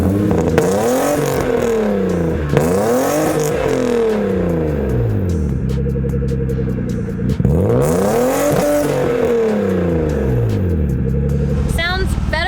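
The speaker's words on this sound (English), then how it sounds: "It'll sound better when it warms up. Cold exhausts always sound way more raspy." A cold BMW E36 engine with a newly fitted exhaust revs repeatedly, each rise and fall of pitch sweeping through a raspy, loud, close-up tone, with a brief dip partway through and occasional clatter.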